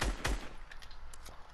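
A rapid burst of SMG gunfire in Fortnite, with two heavy shots up front, then lighter crackling pops trailing off across a short stretch.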